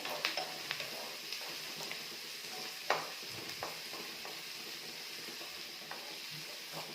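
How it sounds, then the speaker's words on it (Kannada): Onions fry in a pan with a steady close sizzle and hiss, broken by occasional scraping stirs and light taps of a utensil; no one speaks. "ಈರುಳ್ಳಿ ಸ್ವಲ್ಪ ಟ್ರಾನ್ಸ್ಪರೆಂಟ್ ಆಗಬೇಕು ಅಲ್ಲಿ ತನಕ ಸ್ವಲ್ಪ ಫ್ರೈ ಮಾಡಬೇಕು"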